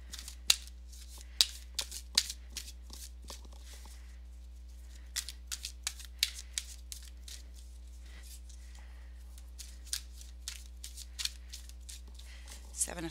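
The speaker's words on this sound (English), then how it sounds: "Here's the first card out of the deck." Tarot cards slipped and snapped out of a deck during a reading, a string of sharp, close papery flicks and shuffles in an uneven rhythm over a steady low hum, with no talking.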